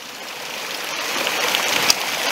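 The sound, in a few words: small waterfall flowing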